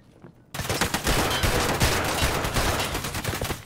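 Sustained automatic gunfire in a first-person shooter game bursts in after half a second of quiet and keeps hammering densely and loudly to the end, with no talk over it.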